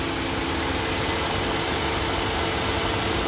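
A durable Toyota petrol engine of the kind fitted to Camry and RAV4 models idles steadily, a constant close mechanical hum with no talk over it.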